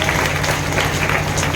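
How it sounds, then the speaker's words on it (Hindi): An audience at a public anti-drug campaign event in Sheohar breaks into sustained applause to welcome a class 9 schoolgirl, with many hands clapping densely and evenly. "आप सभी जोरदार तालियों के साथ इनका स्वागत करें।"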